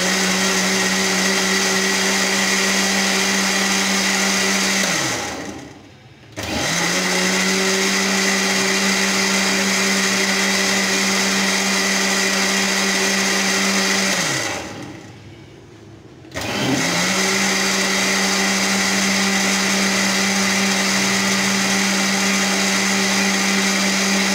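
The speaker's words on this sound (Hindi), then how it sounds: "अब हम इसको फिर से ग्राइंड कर लेंगे अच्छी तरह से" A blender whirs loudly as it grinds a strawberry milkshake with sugar, a steady close motor drone that cuts out twice briefly and spins back up, with no talking.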